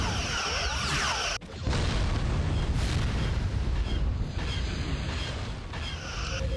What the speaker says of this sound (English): The ship has been destroyed.